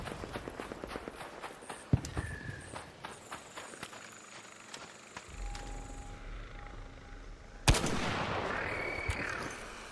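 Video game gunfire comes as a rapid burst of sharp shots in the first seconds, then scattered cracks and mechanical clatter, followed by a loud impact and a sustained noisy rush near the end.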